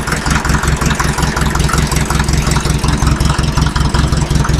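A Fiat 352c tractor's engine catches right after cranking and settles into a steady, loud, close idle with a regular low chugging pulse.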